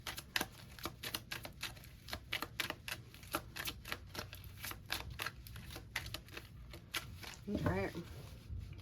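Tarot cards being shuffled by hand, a rapid series of crisp riffling clicks close by, with a short burst of speech near the end.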